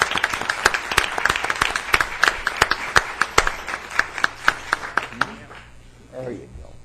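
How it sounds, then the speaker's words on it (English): Applause breaks out at a city council meeting, a run of sharp claps from the room over several seconds that fades as a voice begins speaking at the end. "she deserves a round of applause for"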